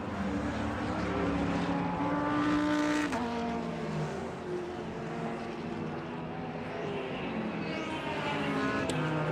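Race cars roar around the track at VIR during a Hoosier Super Tour race group, with overlapping engine notes rising and falling as cars pass, loud and continuous with no speech.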